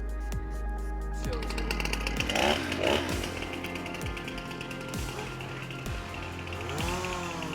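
A chainsaw runs with a buzzing, rattling engine drone that rises and falls as it revs, steady throughout with no talking.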